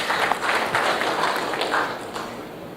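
At the Air Cargo India 2016 conference, an audience breaks into dense, steady applause, many hands clapping at once for a few seconds before it starts to thin slightly.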